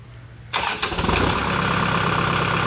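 A tractor engine cranks and catches with a sudden loud start, sputters for a moment, then settles into a steady, close rumbling idle.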